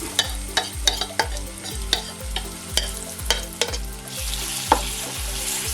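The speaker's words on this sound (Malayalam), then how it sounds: "ഈ എണ്ണയിലോട്ട് ഈ ബാക്കിയിരിക്കുന്ന അരപ്പിട്ട് നന്നായിട്ട് മുറിച്ചെടുക്കാം" Masala paste frying in oil in a pan while being stirred for a crispy anchovy fry. Steady sizzle sits under a string of regular scraping stir strokes close by, and no one speaks.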